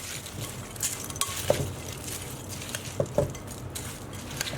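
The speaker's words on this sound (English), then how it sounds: "So let's give it a good mix now." Seasoned chips of torn fried bread are tossed in a bowl with oil and lemon juice, making soft scraping and clinking with a few sharper knocks, close and fairly quiet.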